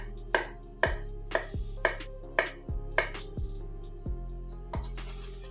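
A knife chops peeled vegetables on a cutting board in about nine crisp, evenly spaced knocks, each a sharp close thud with a short ringing tail, and no voices over them.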